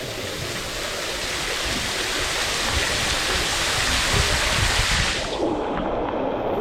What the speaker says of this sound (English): Go under a waterfall into a cave.